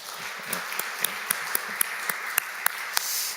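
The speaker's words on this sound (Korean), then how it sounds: "우리 한번 박수할까요?" Church congregation at a Sunday service applauds the choir and a stand-in accompanist with soft, distant clapping, a few sharper individual claps standing out at a steady pace over a faint room hum.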